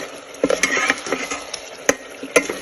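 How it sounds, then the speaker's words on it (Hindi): A ground spice paste for achar gosht is stirred and fried in a pot, with a soft sizzle under scattered spoon scrapes and a few sharp metallic taps, close and brief, no voices. "तो मिक्स कर लें, थोड़ा सा ये फ्राई हो जाए।"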